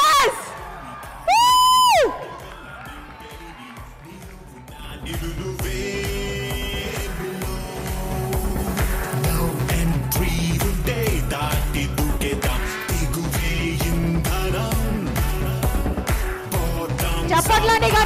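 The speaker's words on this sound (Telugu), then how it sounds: "కమాన్ గట్టిగా చప్పట్లు." A crowd at a Telugu movie success meet for Gentlemen cheers and whoops loudly after a brief rising electronic sweep, sustained shouting and clapping swelling through a large hall under booming music.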